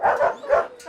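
Labradors at a security dog kennel give two quick close barks, sharp yelping bursts a short moment apart, followed by a softer trailing yip.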